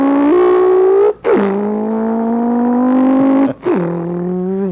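A tuba player buzzes a sustained low tone that mimics a truck engine, dropping pitch and climbing again twice as if shifting gears, loud and up front with no other voices.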